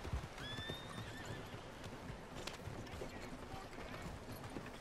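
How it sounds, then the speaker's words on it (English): A video game horse neighs and whinnies near the start, followed by steady hoof clip-clop under ambient game sound, fairly faint overall. "What the fuck is my horse doing?"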